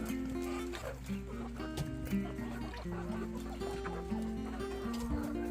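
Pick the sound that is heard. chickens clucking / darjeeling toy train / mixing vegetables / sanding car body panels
chickens clucking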